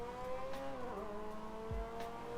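A car engine in Silent Hill 2 revs steadily with a rising and falling whine, a simulated game sound, continuous and moderately quiet with no talking.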